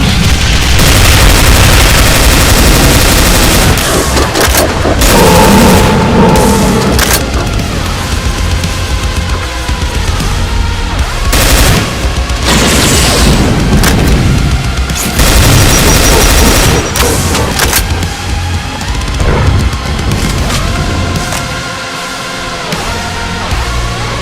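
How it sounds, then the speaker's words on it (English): Demon Tech rifle firing in a Doom mod against Cyberdemons, a loud, dense stream of rapid energy-weapon shots mixed with explosions and booming impacts, sustained throughout with brief pauses and no talking. "The weapon you want to use is mostly the Demon Tech rifle."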